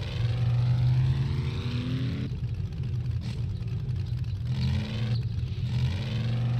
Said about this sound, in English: Now, the Marauder sounds the exact same. Oh, actually, no, it sounds different.